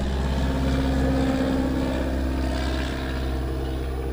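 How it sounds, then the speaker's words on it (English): A yellow airplane passes overhead above a fishing boat on a lake, its steady propeller drone loud and continuous throughout, without talk. "a yellow plane happened to go over as I'm fishing my yellow stuff"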